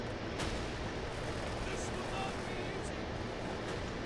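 Gunfire from a WWII-style video game plays as a dense, steady roar of rapid shots and booming blasts, with a few sharper cracks standing out, loud and unbroken throughout.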